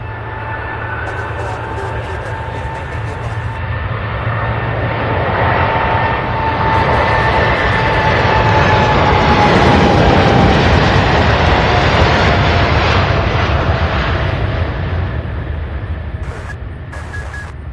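A UPS cargo jet takes off from Louisville International, its engine roar swelling steadily to a loud peak and then easing as it climbs away, with a whining tone sliding through the rumble and no talk over it.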